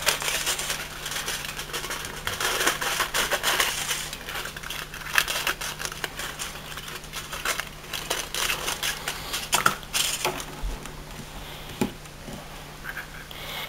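Scissors cut through paper while making a birthday card, giving a close, continuous crisp snipping and rustling texture that stays fairly even for over ten seconds with no speech.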